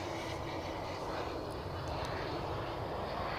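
An Icelandair airliner passes at Zurich Airport with a steady, distant, broadband engine roar that holds evenly throughout.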